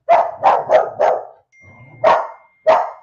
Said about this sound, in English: Sorry, that's my dog Logan, guys